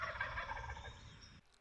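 A wild turkey gobbler calls in a single rattling gobble that rolls on for over a second at moderate distance before cutting off into quiet outdoor air.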